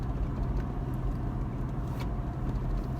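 A modified Toyota Land Cruiser 200 Series on heavy, big tires and Old Man Emu suspension drives along with a steady low engine and road rumble, close and continuous, no voices.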